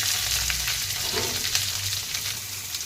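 Curry leaves, a couple of green chillies and onion frying in hot oil for beans palya, a dense continuous sizzle with faint stirring, close and even throughout, no speech.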